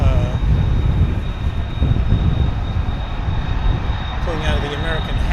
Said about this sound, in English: there goes an American Dreamliner